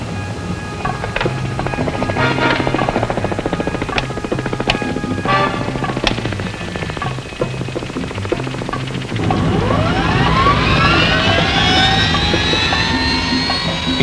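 A DJI Phantom drone flies nearby, its high buzzing rotor whine rising and sweeping in pitch as it speeds up and passes, over background rattles and knocks; no voices.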